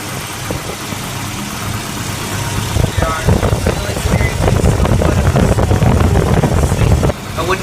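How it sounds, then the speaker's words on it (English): A 1988 Volvo 244/240 DL engine idles with a steady low rumble that gets louder partway through, and a person talks over it. "so as you can see right now, we're idling pretty cleanly."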